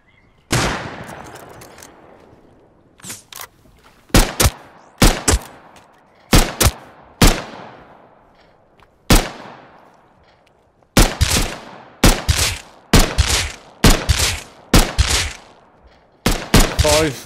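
Sharp gunshots from the video game Rust, fired singly and in quick pairs with echoing decays, roughly a dozen loud reports spread unevenly across the span.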